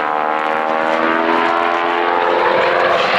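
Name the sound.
biplane engine during aerobatic maneuver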